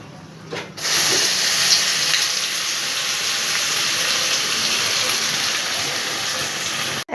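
A paste of shrimp, garlic and green chili hits hot oil with a sudden loud burst of sizzling that then holds as a steady, close hiss.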